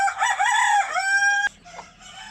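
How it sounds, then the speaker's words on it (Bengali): A rooster crows loudly and close by on a chicken farm, one long harmonic call that breaks off abruptly, followed by softer background clucking from other chickens. "পাশে আছে আমাদের আরেকটা খামার, মুরগির খামার।"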